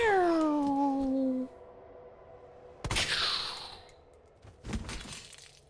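Gunshots in a Resident Evil video game with Leon Kennedy, two sharp cracks a couple of seconds apart with ringing tails, following a descending whine and quiet game ambience.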